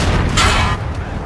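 Tank cannon fire from World of Tanks, including an Italian Progetto tank, rumbles as a dense, loud, continuous blast with a deep low-end boom and a brief swell of crackle partway through.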